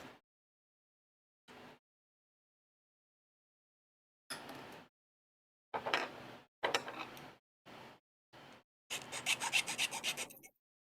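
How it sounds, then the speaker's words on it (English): A hand file rasps along the edge of a handmade part for a Jabberwocky build, in short bursts of strokes separated by pauses, ending in a longer run of rapid, scratchy back-and-forth filing, close and moderately loud. "I'll scrape where I can scrape, and then I'll come in with the file and file it down for a nicer finish."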